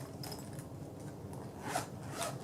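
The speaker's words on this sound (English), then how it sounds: "So it has a zipper pouch on this side where I have cables for my interchangeable" A zipper on a Knit Picks needle case pouch gives short, faint scratchy pulls, a couple of quick rasping strokes close by in a quiet room.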